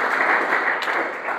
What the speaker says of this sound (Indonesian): Tepuk tangan terbaik buat Tuhan Yesus